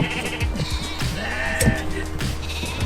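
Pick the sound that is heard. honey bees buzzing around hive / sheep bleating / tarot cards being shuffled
sheep bleating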